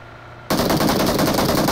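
AUG rifle fire in a video game: after a brief quiet moment, a sudden loud burst of rapid automatic shots rattles on continuously to the end.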